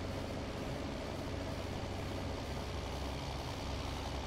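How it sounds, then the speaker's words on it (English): A tractor engine in a farming video game on the Hofgut Brook map runs steadily with a low, continuous drone, loud and unbroken throughout, with no talk over it. "This tractor does sound nice."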